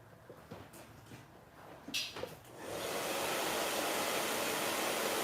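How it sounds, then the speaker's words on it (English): After a few seconds of light handling noises, a blow dryer switches on and roars with a loud, steady airy whoosh until the end. "And we're going to use the blow dryer."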